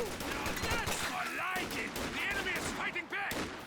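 Dense, continuous automatic rifle fire from doubled BARs on a US rifle squad in Company of Heroes 2. Overlapping bursts run steadily throughout amid other battle noise, loud and close.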